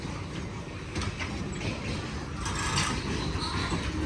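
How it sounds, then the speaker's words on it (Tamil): Train pulling into an Italian railway station and coming to a stop: a broad rumbling roar with faint clattering and a hiss of brakes, moderately loud and steady, with a soft voice in the background. "ஒரு ட்ரெயின் வந்துருக்கு, வந்து நின்றுட்டு ட்ரெயின்."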